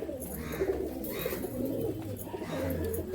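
Teddy pigeons coo steadily in a low, rounded murmur that rolls on for the whole stretch, close by and fairly loud over a busy background of other birds.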